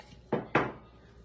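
Two sharp ceramic clinks sound close by as pieces of a branded dishware set are handled and set against each other, with quiet room tone around them.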